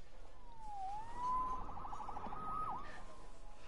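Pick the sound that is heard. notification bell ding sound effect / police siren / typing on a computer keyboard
police siren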